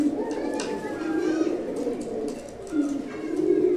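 Pigeons coo softly and repeatedly at close range in a loft, with soft rustling around them.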